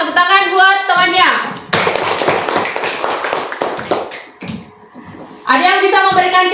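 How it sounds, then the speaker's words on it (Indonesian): Classmates clap for a fellow student in a classroom lesson: a dense burst of group applause lasting a few seconds, with a teacher's voice speaking just before and after it. "Tepuk tangan buat temannya."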